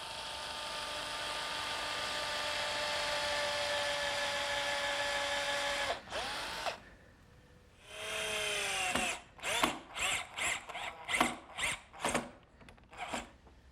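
A power drill drives screws through pine corner blocks into a wooden table frame, with a long steady whine that stops, then a series of short rapid bursts, close and clear with no talking.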